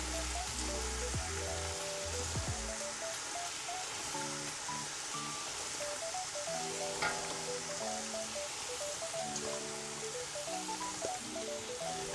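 Bottle gourd hisses and sizzles steadily in a hot pan with chicken, a continuous loud crackle running throughout, while tonal humming or music carries faintly underneath.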